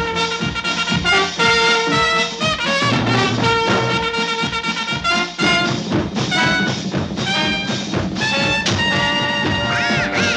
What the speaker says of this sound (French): Et voici Coin Minet et Canard Vénard, et tous les joyeux canards